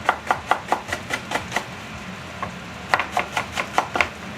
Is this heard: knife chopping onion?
yes